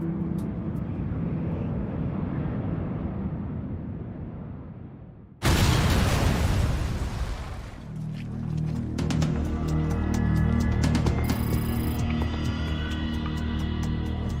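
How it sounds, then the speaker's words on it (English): A bomb goes off at Tokyo's Narita airport: a sudden loud blast halfway through cuts across a steady rumbling roar, followed by booming decay and then a clattering, mechanical din of debris and machinery. "an explosion rips through Tokyo's Narita airport."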